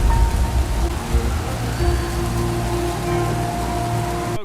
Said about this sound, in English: the sound of the ever-present soothing sound of rain makes this game very memorable